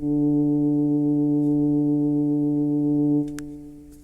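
A steady, buzzy Odyssey analog synthesizer tone in the MPC3 holds for about three seconds, then cuts off abruptly with a short release, leaving only a faint fading tail.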